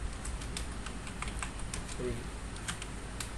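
Keys clacking on a computer keyboard in irregular bursts, moderately near, over a steady background hiss, while someone writes an explanation into an online form.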